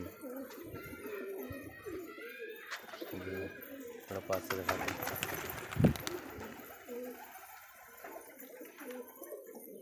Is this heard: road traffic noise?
no